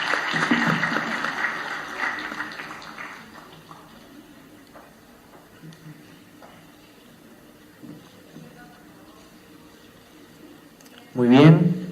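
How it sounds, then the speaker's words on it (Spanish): An audience at a conference claps in recognition of a speaker. A dense burst of applause opens loudly, then thins and fades over a few seconds into a quieter room. "Otro fuerte voto de aplauso"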